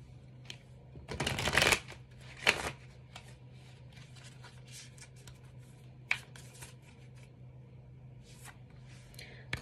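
Tarot cards are shuffled for a reading, a loud riffling burst early followed by a shorter one, then sparse soft card slides and taps over a low steady hum.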